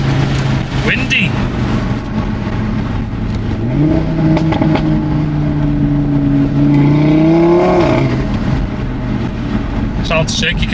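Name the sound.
Audi RS3 diverter valve and exhaust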